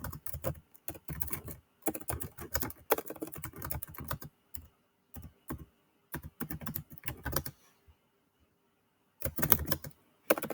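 Bursts of typing on a computer keyboard, close and fairly loud, coming in irregular clusters of rapid keystrokes separated by short pauses and one longer silence near the end.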